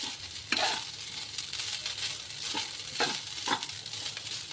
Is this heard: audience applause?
no